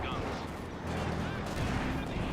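Anti-tank gun fire in a Company of Heroes 2 battle, dense rumbling shots and impacts mixed with battlefield noise under a commentator's voice, sustained over a short stretch.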